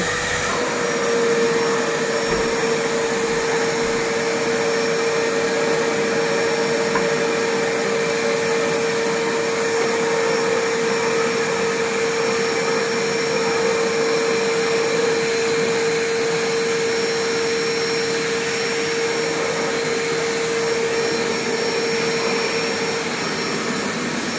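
A vacuum cleaner sucks dust out of an electric fan while a room is cleaned, making a loud, steady, close-up drone with a faint whine that runs unbroken for the whole stretch, with no talking.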